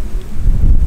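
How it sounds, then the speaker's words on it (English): Gusting wind at an outdoor shooting range buffets the microphone in a low, rumbling roar that swells toward the end of a brief, loud stretch with no talk. "The winds are gusting from 20 to 30 miles an hour."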